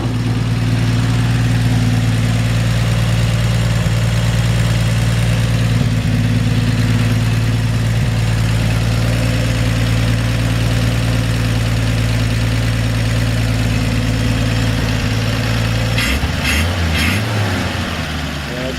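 A 1954 Chevrolet 5-window pickup truck's 235 six-cylinder engine idling smoothly and loud nearby, a steady low rumble that holds evenly before shifting near the end.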